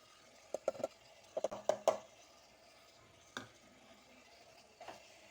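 A spoon stirs ground spices into chicken in a clay pot, knocking out quick clusters of hard clacks against the pot, then a few isolated scrapes over a quiet background.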